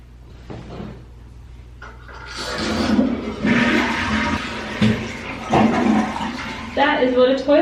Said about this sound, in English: That is what a toilet sounds like.